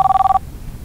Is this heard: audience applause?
no